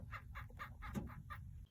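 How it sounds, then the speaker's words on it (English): A male crested gecko chirps in a quick series of about seven short, evenly spaced clicks, faint and close, over a low background rumble. "I will put a video of a male crested gecko chirping right now."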